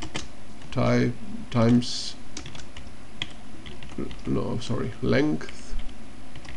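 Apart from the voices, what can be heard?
typing Perl code on computer keyboard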